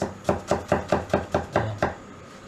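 A knife slicing through an onion on a board while preparing lasagne, eight crisp evenly spaced cuts in a steady rhythm, close and clear, with no talking.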